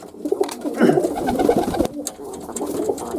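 Several young racing pigeons cooing together up close in a loft, soft overlapping warbling calls mixed with light rustling.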